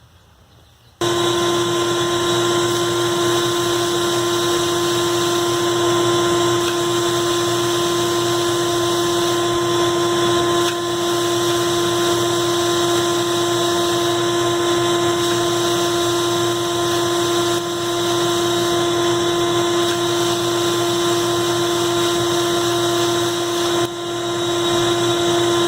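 A loud, steady mechanical roar with a sustained tonal whine runs unbroken for the whole stretch after a brief quiet start, like a blasting cabinet with its vacuum running.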